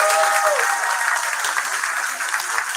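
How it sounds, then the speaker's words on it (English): Audience at a fifth grade promotion ceremony applauding, a steady wash of clapping and crowd noise held throughout, with a brief whistle at the start. "Can we give them a round of applause?"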